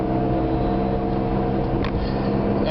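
Inside a moving taxi, a constant loud roaring drone fills the cabin, low and steady with a faint tonal whine, plus one brief click near the end.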